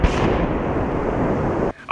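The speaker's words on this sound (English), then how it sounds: "Today's explosion proved very successful" A tunnel at the DPRK nuclear test site is blown apart in a demolition explosion, heard as a loud, sustained roaring rumble that cuts off abruptly near the end.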